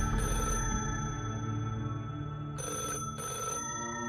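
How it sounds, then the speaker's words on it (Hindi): An old telephone bell rings in short repeated trills separated by brief pauses, steady and fairly loud over a low continuous background hum, with no voices. "तभी एकदम से एक टेलीफोन की घंटी बजने लगी।"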